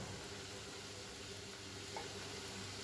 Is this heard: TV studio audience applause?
no